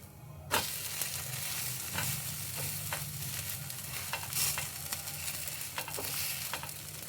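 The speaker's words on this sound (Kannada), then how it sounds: "ಎಣ್ಣೆ ಹಾಕ್ಕೊಳ್ಳೋಣ. ಎರಡು ಕಡೆ ಬೇಯಿಸ್ಕೊಳ್ಳೋಣ." Rava dosa batter sizzles and crackles in oil on a hot pan, a soft, continuous frying hiss with scattered small pops and light scraping, no talk.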